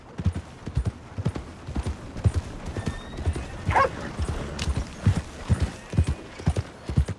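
Horse hooves clip-clop steadily in Red Dead Redemption 2, a regular rhythm of fairly close footfalls with a brief whinny partway through and faint game ambience underneath.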